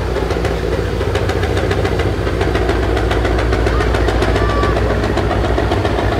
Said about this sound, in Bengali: ফারান ছয়ের মেবি ইঞ্জিনে কিছু প্রবলেম হয়েছে